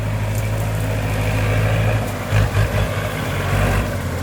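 A Kubota L4708 tractor engine idles with a low, steady diesel rumble close by, and a couple of brief heavier pulses come near the middle.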